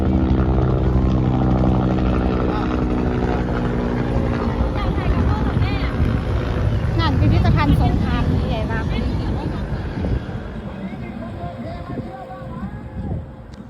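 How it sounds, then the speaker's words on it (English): A helicopter rumbles loudly overhead with whirring rotor noise, mixed with wind and nearby voices, gradually fading as it passes, at the River Kwai Bridge in Kanchanaburi, Thailand. "Helicopter going over the top."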